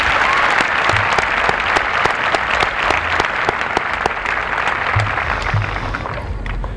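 An audience at a high school commencement applauds honored graduates, a full, sustained clapping from a large crowd with crisp individual claps popping out and a few low thumps underneath, easing off gradually toward the end.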